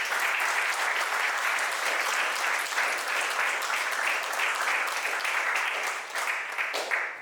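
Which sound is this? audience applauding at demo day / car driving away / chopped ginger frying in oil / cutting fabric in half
audience applauding at demo day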